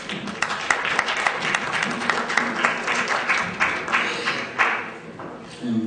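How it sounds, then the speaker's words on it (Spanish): An audience applauds Dr. Franklin Ocaña as he is introduced at a public service law training conference, steady mid-distance clapping from many hands with a few sharper individual claps, continuing for the whole stretch without talk. "vamos a dar un fuerte aplauso al doctor Franklin Ocaña"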